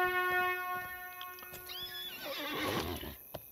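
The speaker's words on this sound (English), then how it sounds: "Gotta love their horses." A Rohirrim horse in the Lord of the Rings Online video game, in the land of Rohan, gives a loud, close whinny that rises and trembles for about a second, set over sustained in-game music tones and faint footfalls.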